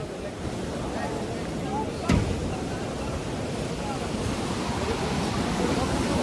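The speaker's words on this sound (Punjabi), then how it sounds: "ਉਹ ਪਾਣੀ ਤੇਜ਼ ਨਹੀਂ ਹੋ ਗਿਆ" Steady rushing river water roars throughout at Manikaran Sahib, a constant broad wash of noise with a brief thump partway through and no clear talk.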